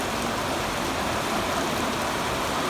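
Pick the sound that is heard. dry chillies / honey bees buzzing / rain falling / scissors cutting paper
rain falling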